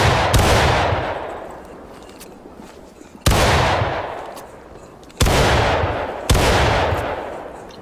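Musket volleys from Confederate line infantry drilling in the Civil War game War of Rights, four loud massed cracks with long rolling decays, spaced a second or more apart.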